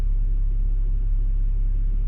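Lorries in gridlocked traffic on the back streets of Dover: a constant deep engine rumble, loud and close, with no change or break.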